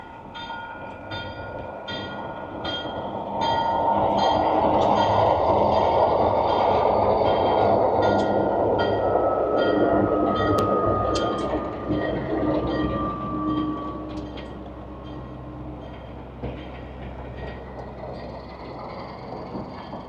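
A White Pass Railway train rumbles past nearby in Skagway, Alaska, its wheels clacking rhythmically over the rails, swelling loud through the middle and then slowly easing off as it moves away.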